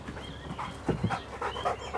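A working farm dog panting in short bursts close by, rhythmic breathy puffs over a faint outdoor background.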